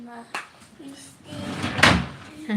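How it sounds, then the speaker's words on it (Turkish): A drawer is shoved shut indoors in a home with children playing, with a few light knocks and then a louder wooden scraping thud, while people talk nearby. "o çekmeceyi kapat kızım"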